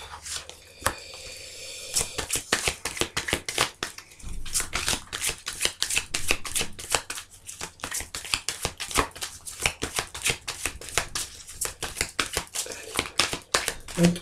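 Playing cards being shuffled and riffled for a card reading: a dense run of sharp flicking clicks and snaps, close up and fairly loud, with a few brief pauses between bursts.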